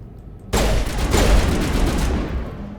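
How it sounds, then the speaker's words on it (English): Rapid gunfire aimed at the player in Mass Effect Legendary Edition erupts suddenly after a quiet moment, a loud dense stream of shots rattling for about two seconds. "Who is shooting me?"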